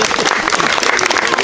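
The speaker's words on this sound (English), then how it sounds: "We're going to give Dad a round of applause" Wedding guests applaud the bride's father during the ceremony at a restaurant, a brief, loud, dense burst of clapping close by.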